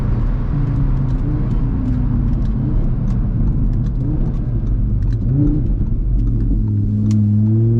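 Audi RS3 exhaust roars loud and close as the car accelerates from inside the cabin with the sunroof open, engine tones rising and falling in steady pulls with no talking.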